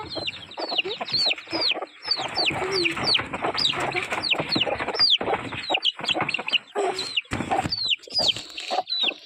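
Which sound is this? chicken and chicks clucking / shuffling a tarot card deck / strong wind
chicken and chicks clucking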